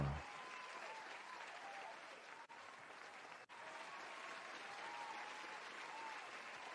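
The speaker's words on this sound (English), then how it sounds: "That's an extended applause." Sustained applause from an audience at a panel chat, steady and fairly faint, carrying on without a break apart from two brief dips, with no voices over it.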